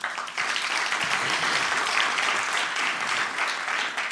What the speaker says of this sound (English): Please give them another heartfelt applause.